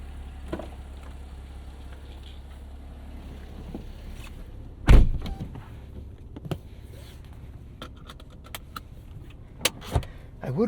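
A 2011 Porsche Cayman 987.2 Base with a 6-speed manual, heard from inside the cabin as it is driven: a steady low road and engine rumble, with a heavy thump near the middle and a few scattered clicks and knocks.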